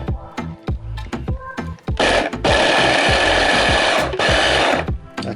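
Blender whizzing ginger and garlic, a loud steady motor roar running for about three seconds with a brief dip, preceded by several sharp knocks and clicks as the jug is secured.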